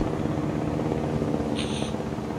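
Continuous whirring rotor drone of a helicopter in the video game Jurassic World Evolution, steady and fairly loud throughout, with a brief higher tone partway through.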